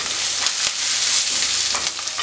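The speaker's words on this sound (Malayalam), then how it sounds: "ഒരു 1-2 മിനിറ്റ് വരെ ഒന്ന് വഴറ്റി കൊടുത്താൽ മതി അപ്പോൾ നല്ലതുപോലെ മൂത്ത് കിട്ടും" Ginger, garlic and green chili sautéing in a pan for a Kerala sardine curry, a dense, bright, steady sizzle close up with soft stirring scrapes.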